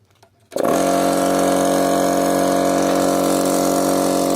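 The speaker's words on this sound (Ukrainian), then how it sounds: "Запускаємо компресор." An air compressor kicks on abruptly after a moment of near silence, then runs loud and steady with a constant droning motor hum.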